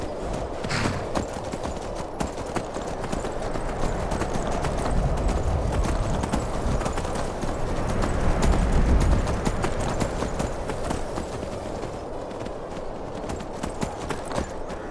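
Horse hooves clip-clop in a Skyrim SE video game, a continuous rapid rhythm of hoofbeats at moderate loudness over fifteen seconds, with brief faint speech.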